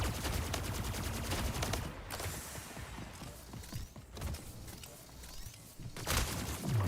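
Plasma rifle fire in Splitgate, heard as rapid repeated energy shots in quick bursts that pause briefly and then resume, fairly faint overall and mixed with other game effects.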